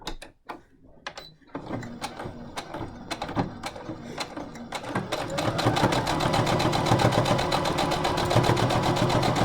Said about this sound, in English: we're going to sew that as close to the edge as we can